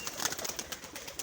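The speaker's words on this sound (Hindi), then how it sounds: "इनने अपने कबूतर और उनके पट्ठे, लाहौरी कबूतर" Lahori pigeons cooing softly in a loft, a few faint, soft repeated coos over low background noise, with no talk.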